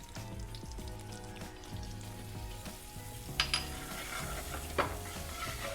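Spices and kasuri methi fry in oil in a pan for paneer fry. A steady, fairly quiet sizzle continues throughout, with a few light clinks of a utensil against the pan near the end.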